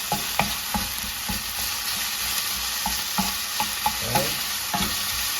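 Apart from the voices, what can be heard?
stirring chicken frying in a hot pan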